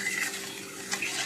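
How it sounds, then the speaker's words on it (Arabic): Sugar and water stirred in a pot to make syrup for kunafa, a soft swishing slosh with a faint scrape or two, close and continuous, with no talking. "هقلب"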